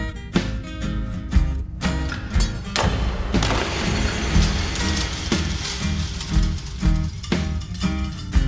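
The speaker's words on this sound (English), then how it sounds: "maybe the wrench will actually twist that edge and break the glass when it impacts" A wrench strikes a tempered car window, and the glass shatters with a dense, sustained crackle of breaking and tinkling fragments that lasts several seconds, with scattered thuds and clinks throughout.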